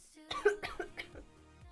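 A single close, muffled cough bursts out, followed by a brief throaty rasp, then quiet.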